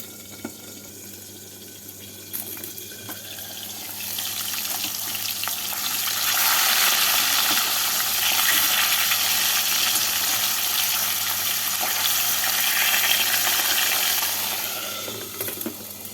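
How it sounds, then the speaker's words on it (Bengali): Catfish pieces fry in hot oil, and a soft crackle swells into a loud, steady, close sizzle that holds for several seconds before easing off, with no voices. "ঢাকা দিয়ে উল্টে পাল্টে লাল করে ভেজে নেব মাছগুলোকে তেলের মধ্যে দিয়ে"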